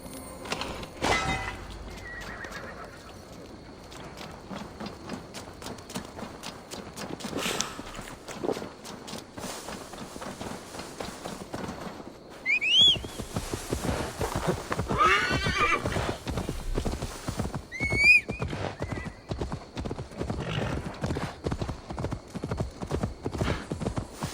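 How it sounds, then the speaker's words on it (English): Horse hooves clip-clop steadily throughout, with two sharp whinnies breaking in partway, heard against a busy outdoor soundscape in the video game Assassin's Creed Valhalla. "Now to deliver Magni his horse."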